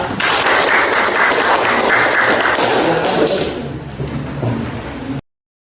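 A room full of people applauds loudly, the clapping steady before tapering off and stopping abruptly.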